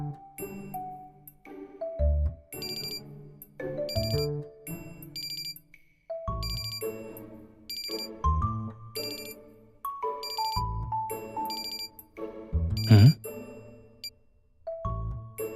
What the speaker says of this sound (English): that's an alarm I set